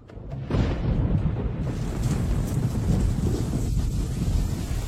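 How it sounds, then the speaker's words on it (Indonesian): Heavy rain falls outside in a dense, steady roar that rises suddenly after a quiet start and stays loud and unbroken, with no voices present. "Di luar hujan, aku harus pulang. Hujannya deras."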